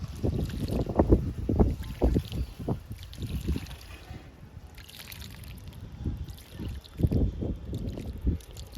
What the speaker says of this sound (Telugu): వాటర్ ఇస్తున్నాను అగేరా మొక్కకి.